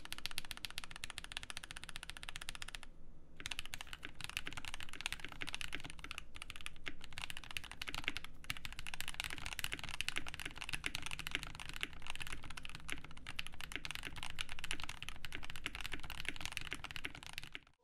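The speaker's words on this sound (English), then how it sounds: "So let's see how we actually like the sound on this." Rapid, continuous typing on a Haven60 mechanical keyboard prototype, a dense stream of close clicky keystrokes with a short pause near the start, no voices.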